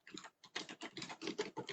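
Quiet, rapid keystrokes on a computer keyboard, about a dozen taps in a quick irregular run, with no voices present.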